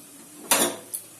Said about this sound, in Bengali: আরো 10 মিনিট পর আমি ঢাকাটা খুলে